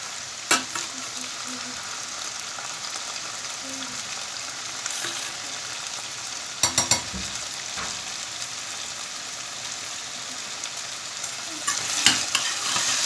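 Pepper and tomato paste sizzles steadily in a hot frying pan while a utensil scrapes and stirs, with a few louder clinks along the way.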